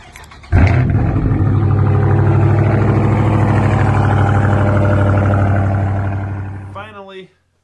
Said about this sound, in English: you get the right exhaust setup on these cars, on these engines, and they just sound so damn good